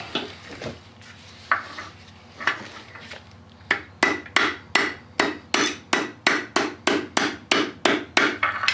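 A bearing bushing on a 2001 Ram 3500 Cummins being hammered back into place: a few scattered metal taps, then about a dozen sharp, loud, evenly spaced strikes in a steady rhythm.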